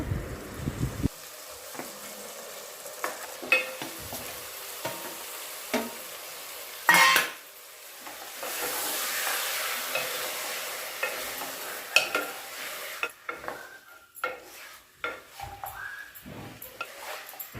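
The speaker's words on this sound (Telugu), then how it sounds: "ఇందులో మటన్ వేసుకుందాం మటన్ వేసుకొని మొత్తం కలిసేదాకా కలబెట్టుకోవాలి" Mutton is stirred and fried in a pan for a curry, with scraping strokes and a steady sizzle rising and falling over about eighteen seconds, close and moderately loud, with a few sharp clinks against the pan.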